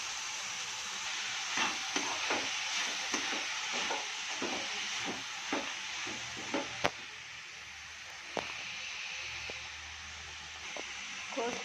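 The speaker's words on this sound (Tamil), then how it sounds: "கோஸ் நல்லா வதங்கட்டுங்க" Cabbage, tomato and onion sautéing in a pan for a home-style cabbage coconut curry, giving a steady hiss with scattered clicks of stirring and faint background voices.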